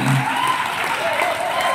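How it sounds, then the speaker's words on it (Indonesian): Applause breaks out from an audience at a community gathering and networking event of young Xian You residents in Indonesia, steady and dense throughout with voices mixed in. "Berdiri, tepuk tangan."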